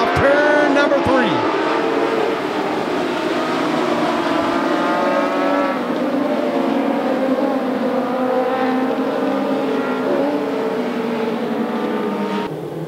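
Dwarf race cars roar around the oval at Grays Harbor Raceway during a PHRA A-Main, several engines overlapping in a continuous, loud, rising and falling whine that sweeps past close by for the whole stretch.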